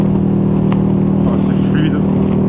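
A KTM 1290 motorcycle engine hums steadily while riding at light throttle, a constant droning tone with someone speaking over it.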